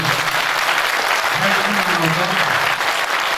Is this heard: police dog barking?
no